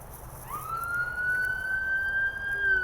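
An emergency siren rises into a steady wailing tone that holds for a couple of seconds over a rumbling background of traffic noise, moderately close.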